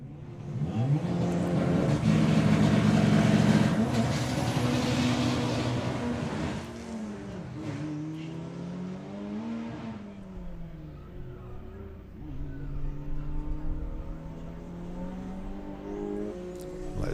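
Drag racing cars launch down the strip at a summer nationals meet with roaring engines that rise in pitch through the gears, loud at first and then fading into the distance as they pull away.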